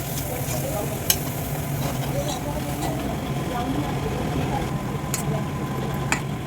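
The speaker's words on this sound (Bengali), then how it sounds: "দিয়ে ভালো করে নেড়ে নেবো। জলটা আরও শুকিয়ে নেব।" Water lily stems and prawns cooking in a pan, stirred with a utensil: a steady, dense crackling sizzle runs throughout, with a couple of sharp clinks of the spoon against the pan.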